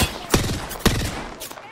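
Gunfire in the Apex Legends battle royale, two sharp shots about half a second apart standing out over a busy game background, followed by fainter scattered pops, fairly close and loud.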